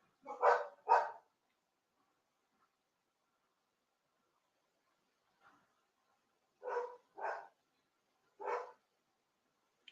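A dog barks in separate bursts, two quick barks early, then three more spaced barks later, fairly close and clear against an otherwise quiet background.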